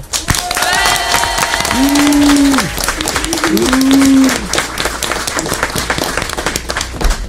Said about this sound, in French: Merci de faire un tonnerre d'applaudissements pour Stouff.